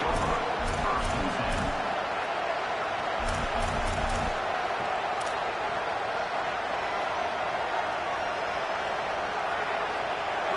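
A packed football stadium crowd cheers in a loud, unbroken roar, with rhythmic thumping bursts near the start and a dense wash of voices holding steady throughout.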